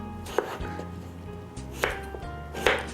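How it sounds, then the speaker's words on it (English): A knife chops potatoes into cubes on a cutting board, three distinct sharp strikes spaced about a second apart over a steady low hum. "I will just cut the potatoes into cubes,"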